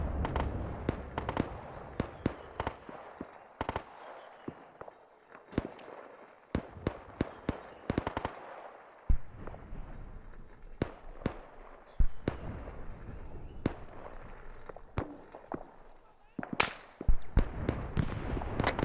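Incoming gunfire in a military video game, scattered sharp cracks and pops of varying loudness, some near and some distant, spread irregularly over a quiet background with no talking.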